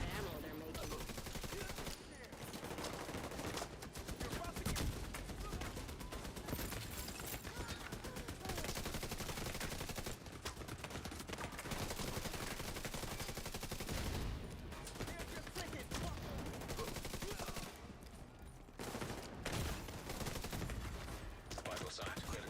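Enemy turret in The Division 2 firing long sustained automatic bursts, loud and dense throughout, with brief gaps between volleys.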